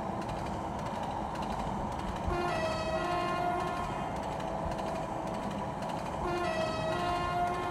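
TGV Duplex high-speed train running on the Polar Express route in the Trainz video game, a continuous rumbling rail roar with two sustained horn blasts, loud and steady throughout.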